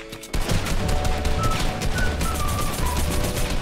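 Rapid, sustained gunfire in a video game: a dense, continuous fusillade of close, loud shots that keeps going without pause, with faint chirping tones over the barrage.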